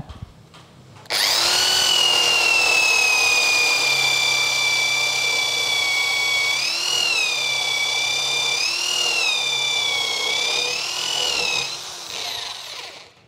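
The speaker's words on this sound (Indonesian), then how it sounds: "Ini saya pakai mata bor kipas yang 20 mili untuk kayu ketebalan 2 inci ya." A RYU RDR10 power drill with a 20 mm spade bit whines loudly and steadily as it bores into 2-inch-thick wood, pitch dipping and wavering under load before cutting off.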